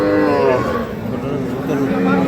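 A deep, drawn-out cow moo drones close by over murmuring voices and general crowd noise at a livestock market selling dairy cows and calves.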